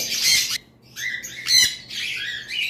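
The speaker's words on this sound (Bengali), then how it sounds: "ব্রিডিং পেয়ার সানকোনোর, ডিএনএ কার্ড রয়েছে, ব্রিডিং পেয়ার" A breeding pair of sun conure parrots gives loud, harsh, close squawks in several bursts, one after another, with short gaps between them and no talking.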